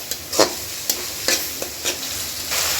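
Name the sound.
ginger garlic paste frying in a little oil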